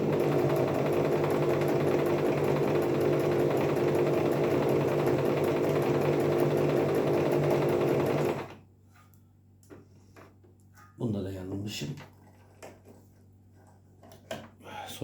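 A Singer Promise 1412 sewing machine stitches a blind zigzag pattern, a loud steady mechanical whir with ticking detail running for about eight seconds before stopping, followed by a brief clunk and quiet handling.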